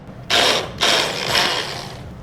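A Braun hand blender on low speed chops mushrooms in short bursts, its whirring motor switching on, briefly stopping, and then running again nearby.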